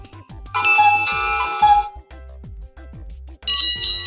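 A bell rings with a bright, sustained tone that fades, falls quiet, then rings again near the end.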